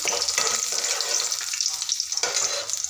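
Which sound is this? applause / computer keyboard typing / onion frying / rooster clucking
onion frying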